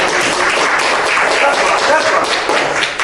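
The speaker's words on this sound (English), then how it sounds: "Everybody give this man a round of applause." A youth center audience applauds a graduating young man, a dense steady wash of clapping that fills the whole stretch at close range, with some voices mixed in.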